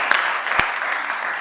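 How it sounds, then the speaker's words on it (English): Seminar audience in Illinois breaking into applause, a steady close burst of many hands clapping with a couple of sharper individual claps standing out. "Give yourself a round of applause for being a big part of the community"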